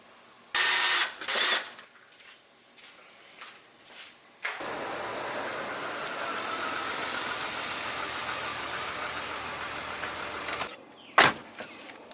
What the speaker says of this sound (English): gotta take the license plate off of the guy who sold it to me.